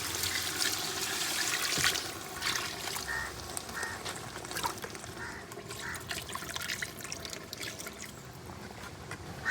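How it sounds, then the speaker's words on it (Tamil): Water pours and splashes steadily into a cooking pot of chicken for biryani, a continuous liquid rush with some trickling and bubbling. "அந்த ஸ்டேஜில் நம்ம தண்ணியை ஊற்றிடுறோம்."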